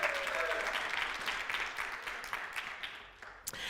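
A church congregation applauds news that the church building mortgage is paid off, a dense, steady wash of clapping at close range that thins out toward the end.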